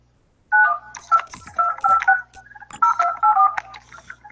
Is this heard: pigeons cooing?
no